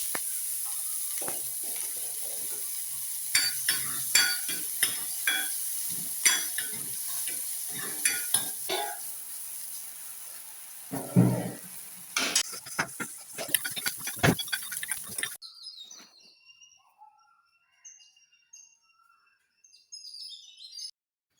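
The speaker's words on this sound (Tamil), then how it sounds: "வெங்காயம் வதங்கி வரட்டும்" Onions sautéing in tempering oil for a traditional South Indian breakfast: soft sizzling with repeated scraping and stirring strokes, then quieting, while birds chirp in the background.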